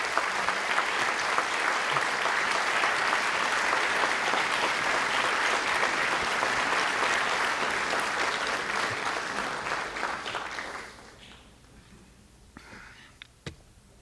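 Audience applause at a high school academic hall of fame induction ceremony, a broad sustained clapping that fades away around the eleventh second, leaving quiet room noise and a couple of stray knocks.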